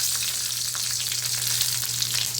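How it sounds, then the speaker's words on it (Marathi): Chillies sizzle loudly in hot oil, a dense, steady crackling hiss over a low hum, with no talking. "त्याच्यामध्ये या चार मिरच्या मी टाकते"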